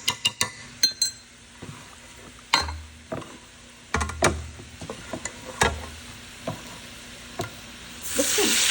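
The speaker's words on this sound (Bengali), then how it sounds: "দেখছেন পেঁয়াজটা ভাজা ভাজা হয়ে গেছে আলুর সঙ্গে" Onion and potato fry in a pan with dried chili, with a soft sizzle broken up by sharp clinks and scrapes of a spoon against the pan, close up and with no talking.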